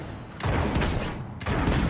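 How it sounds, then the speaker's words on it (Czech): Rapid bursts of gunfire in Realm Royale crackle in dense volleys, loud and continuous, with a brief lull between two barrages. "po mně někdo střílí z věže"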